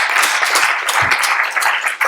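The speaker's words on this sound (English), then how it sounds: "Round of applause." A university lecture audience applauds after a guest talk on music streaming, a dense, steady wash of many hands clapping, close and loud throughout.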